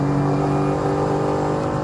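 Mercedes-AMG GT4 race car engine held at full throttle on the Portimão circuit, a loud, steady onboard roar with strong harmonic drone, continuous and unbroken throughout.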